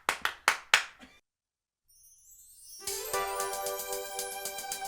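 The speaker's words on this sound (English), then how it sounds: "Let my guest clap." A guest on a creative talk show in New York claps three or four times, crisp and close, then falls silent before a bright, jingly music sting rises.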